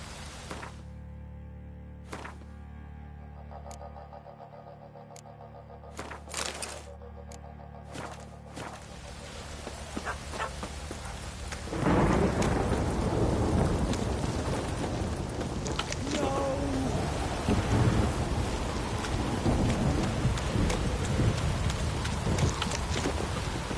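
Steady broadband rain hiss from a storm in The Witcher 3, thickening sharply midway into a loud, dense downpour with rumbling low tones, alongside intermittent game effects and brief clicks early on.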